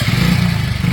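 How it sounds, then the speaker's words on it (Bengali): A motorcycle engine runs close by for about a second, a steady, loud low drone with faint mechanical clatter on top. "এটা স্টার্ট করো মোটরসাইকেল"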